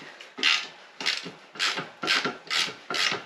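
A ratchet works loose the 5/16 bolts holding a 1976 swivel bucket seat to its pivot base in a Ford Econoline van: six evenly spaced rasping bursts of clicking, close and clear, with no talking.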